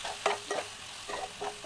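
Chopped tomatoes are stirred into chicken curry in a pan, producing a faint sizzle broken by a few soft spoon scrapes spaced unevenly, with no voices.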